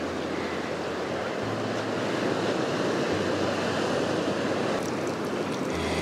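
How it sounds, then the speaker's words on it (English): Large ocean waves crash and surge steadily at Cadillac Canyon, a broad roar of surf with wind buffeting the microphone, loud and continuous throughout with no voices. "where we were standing before is now starting to get wet when the really big waves come in"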